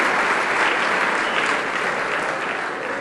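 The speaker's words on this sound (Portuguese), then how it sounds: "Palmas para a dupla Pó e Poeira" Church congregation clapping for a performing duo, dense sustained applause at a steady level that eases slightly toward the end, with no voices over it.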